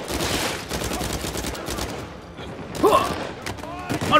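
Sniper fire and other gunshots in the video game Uncharted 4, heard as a rapid barrage of shots that thins out midway before sharper cracks return near the end.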